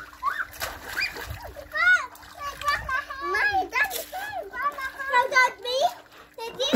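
A child splashes in water at a pool while a parent and kids talk excitedly throughout, with bursts of splashing between voices.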